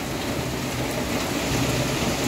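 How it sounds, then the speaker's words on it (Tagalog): Steady, dense rain falls continuously, a broad even hiss with low rumbling patter and no voices. "Ayun na, maulan ngayong hapon na to."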